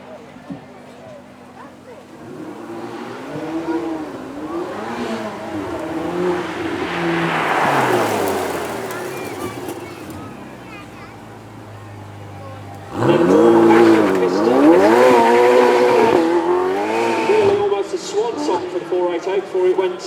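Ferrari 488 supercar at a supercar weekend event, engine rising and falling through several revs before a sharp louder surge of acceleration that stays strong to the end, with a voice speaking over it.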